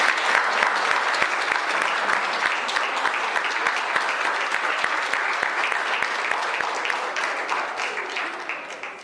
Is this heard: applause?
yes